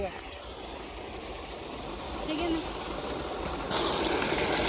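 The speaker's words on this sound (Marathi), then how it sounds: "हा छोटा बोरवेल पहा मस्त पाणी पडून झालं" Steady rushing water, like a stream pouring out of a pipe from a small borewell, runs throughout with a slight surge near the end, with faint background voices.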